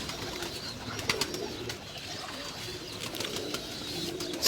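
Pigeons on a Lahore rooftop give soft, low coos through a steady wash of outdoor noise, with a few brief clicks and flutters scattered across the stretch.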